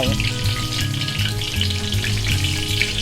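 Steady, dense sizzling of batter frying in hot oil for Thai fried dumplings with a cabbage filling, crackling continuously and close by with no talking.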